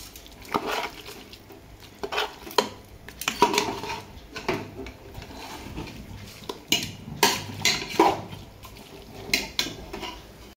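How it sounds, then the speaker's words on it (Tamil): A spoon clanks and scrapes against a pot as homemade biryani masala with ginger and garlic is stirred, irregular knocks and rattles up close with no talking. "பிரியாணி நல்லா கிண்டி விடணும் நல்லா கிளறணும்"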